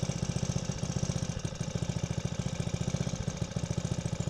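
The small engine of a motorized cooler idles steadily with a rapid, even chugging pulse, close and continuous with no talking.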